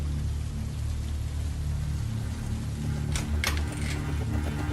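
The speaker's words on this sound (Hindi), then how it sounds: "बाहर बहुत बारिश हो रही है" Steady, dense hiss of heavy rain fills the clip evenly, with a low rumble beneath and a few brief clicks near the end.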